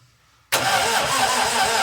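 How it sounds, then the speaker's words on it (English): A 1961 Triumph TR3A engine is heard catching after a brief starter crank, bursting abruptly into a loud, steady idle that runs on without voices. "Push the starter."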